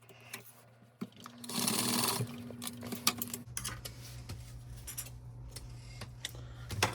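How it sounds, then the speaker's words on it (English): A sewing machine stitches fabric for a Black Dragon Mav Pack in short close bursts, a brief loud run followed by a longer steadier hum of stitching. "We'll stitch on the other side here."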